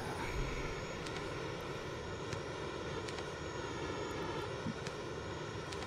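An enemy helicopter in Call of Duty Mobile, a steady droning engine rumble at moderate distance, continuous and fairly even with faint ticking on top, no voices.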